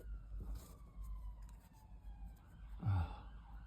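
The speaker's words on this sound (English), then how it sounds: "I had to wait for those sirens to stop" Emergency vehicle sirens pass outside, a faint, distant wail sweeping up and down beneath low background rumble, swelling slightly near the end.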